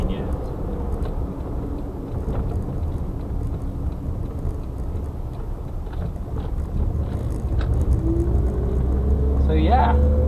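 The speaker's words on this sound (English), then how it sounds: "there's just a little bit of noise kind of comes through to the cabin" Steady road noise inside the cabin of a 2003 Suzuki Wagon R, a low continuous rumble and hum that grows a little louder toward the end as the engine note rises.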